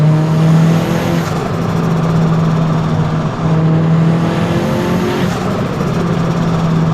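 A car on snow tires revs and accelerates hard, with a loud, steady engine drone and a strong low hum that holds throughout, heard from inside or close behind.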